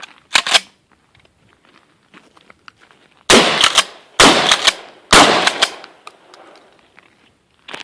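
A Winchester 12 gauge pump shotgun fires loud, close blasts: one early shot, then three rapid shots in quick succession, each with a sharp crack and short decay.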